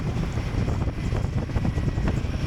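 Royal Enfield Himalayan 450 motorcycle engine winding down through the gears on a UK road, a steady loud low rumble with wind buffeting over it, continuous for the whole stretch with no talk.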